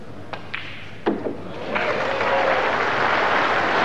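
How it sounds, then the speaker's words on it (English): After a few sharp knocks of snooker balls, supporters at a 1989 final in Hong Kong break into warm applause that swells and holds as steady clapping to the end. "His supporters applaud."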